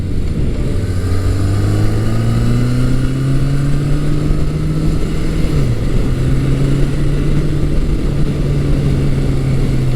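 A classic 1100 cc musclebike, a Suzuki GS1100 or Yamaha XS1100, pulls out of corners with a smooth, rising engine drone. A brief dip marks a gear change before the note climbs again, loud and close throughout with no voices.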